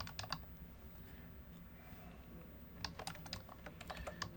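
Keyboard typing while entering a material name into a design table in SolidWorks CAD software: a few quick keystrokes at the start, a quiet pause, then a denser run of clicky keys near the end, all close and fairly soft.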